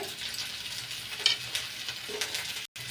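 Chopped onions, spring onion and ginger-garlic paste sizzle softly in a pan while being stirred, with a steady low frying hiss and light scraping, briefly cutting out near the end.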